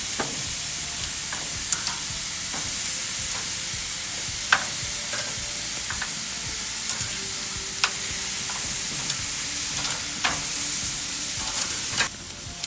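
Tikka boti kebabs sizzle steadily on a hot grill, a dense continuous crackle with occasional sharper pops and spits, close and even throughout with no voices.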